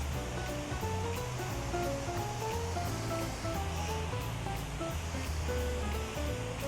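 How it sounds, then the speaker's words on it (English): A freshly seeded lawn is watered with a steady, close hiss of spraying water that runs without a break, under background music and with no speech. "now that this is fully seeded, I'm just gonna start watering it"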